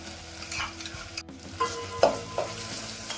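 Curry leaves, green chilli, garlic and pepper hitting hot oil in a tempering for tangy mango rasam, giving short bursts of close sizzling and stirring clatter over a low steady frying hiss, with no talk.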